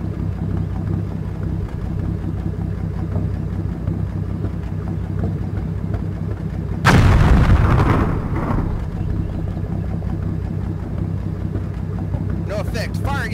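An artillery round fired in the Combat Mission World War II game: a single loud, close booming blast midway through, rising above a steady rumbling engine-like drone that runs throughout.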